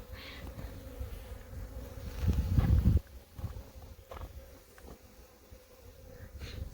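Honeybees swarm and buzz around a hive as a frame is shaken. A dense buzzing drone swells briefly louder with a thump, then settles back, close up, and a voice murmurs once.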